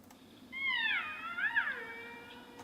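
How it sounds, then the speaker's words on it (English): A slowed-down aggressive bat call becomes a single wavering, meow-like cry with rising and falling harmonic sweeps, lasting about a second and a half over a quiet hiss. "One call that I have found is associated with a type of aggressive behavior is"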